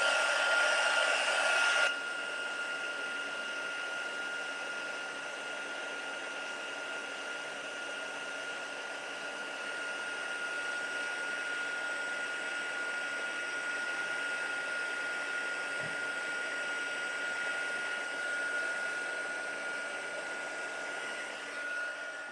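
Steady whirring blast of a heat embossing tool warming freshly stamped ink on a card, running continuously and close at one level, slightly louder in the opening two seconds, with no talk over it.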